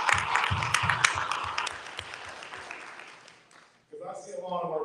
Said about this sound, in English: So if you would, give yourself a round of applause.